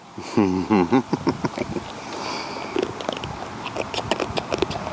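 A hobby farm animal chewing acorns, close-up crunching and biting in quick irregular bursts, with some brief vocal sounds near the start.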